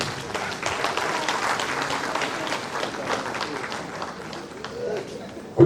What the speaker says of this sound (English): Please, can we give him a round of applause?